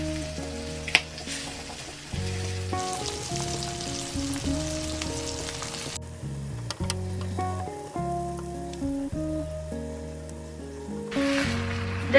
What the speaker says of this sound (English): Shrimp does not take very long to cook, so you want to cook it about 60 seconds on each side